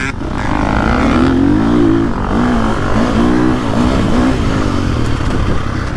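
Engine of a Gas Gas or KTM 450 Factory Edition dirt bike, loud and continuous with rising and falling revs as it pulls through the low to mid range, close by and steady for the whole stretch.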